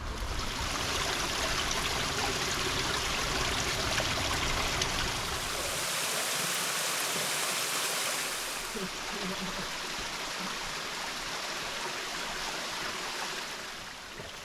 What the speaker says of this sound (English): This appears to be the entire water flow of Cascade Falls right now, so pretty minimal